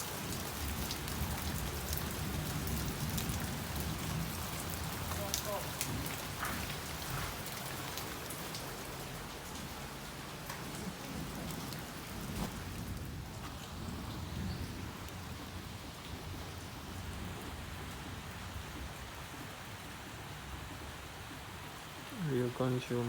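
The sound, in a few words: rain falling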